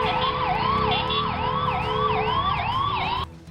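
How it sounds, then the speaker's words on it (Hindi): An ambulance siren stuck in Delhi traffic wails in a rapid, repeating rise-and-fall pattern, loud and close, before cutting off abruptly near the end. "एम्बुलेंस ड्राइवर लगातार सायरन बजाते रहे ताकि उन्हें आगे जाने का रास्ता मिल सके।"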